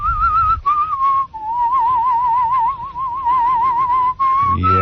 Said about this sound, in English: Let's hear a little in whistling.